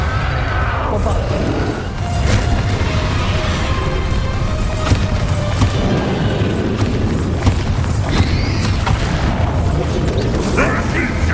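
Spell explosions and combat effects from the Hogwarts Legacy video game, with booming blasts and mechanical clatter running throughout the clip over dense game music and ambience, with a voice speaking briefly.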